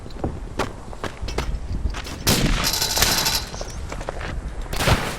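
Rifle gunfire in the first-person shooter Verdun: sharp, irregular shots near and far, some in quick bursts, over constant battlefield rumble and running footsteps, with a dense sustained volley in the middle and a loud blast near the end.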